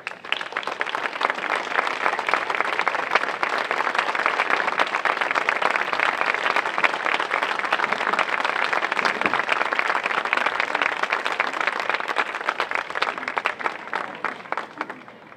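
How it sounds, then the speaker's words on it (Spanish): Concert audience at a band music series in Albolote gives sustained, dense applause for fifteen seconds, loud and steady from start to finish with no talk over it. "Recibámoslo con un fuerte aplauso."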